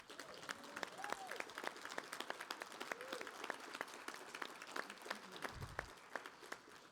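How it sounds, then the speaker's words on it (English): Audience applause for Ambassador Sam Brownback at a partner dinner, a soft, fairly distant patter of clapping sustained evenly throughout, with a faint voice in the background. "have everybody give a round of applause to Ambassador Sam Brownback"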